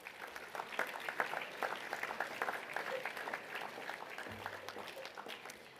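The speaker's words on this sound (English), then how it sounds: "a round of applause for our first group of Year 12 silver medalists" A school assembly audience applauds a group of Year 12 silver medalists, steady scattered clapping held at moderate, even loudness for several seconds.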